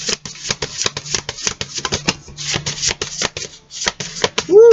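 Angel-themed tarot cards shuffled by hand, a dense run of quick papery riffles and slaps close to the microphone, steady and loud, ending with a brief voice.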